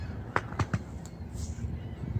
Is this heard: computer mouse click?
no